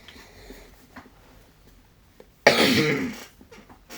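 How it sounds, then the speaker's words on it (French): A single loud, harsh cough bursts out near the mic after a stretch of quiet background ticks, then fades. "Désolé pour le dérangement. Je tousse."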